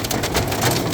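Rain drumming steadily on the thin roof of a Volkswagen Up micro camper, a dense, close, continuous patter of drops with no voices.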